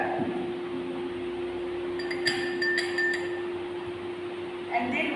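Oxalic acid crystals are tipped from a watch glass into a clean glass beaker in a chemistry lab, a short run of light glassy clinks and taps over a steady hum, with a person speaking.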